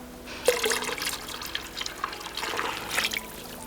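Orange 5-fold essential oil trickles and splashes into a turmeric salt soap mixture in a steady pour lasting a few seconds, close by with no talking.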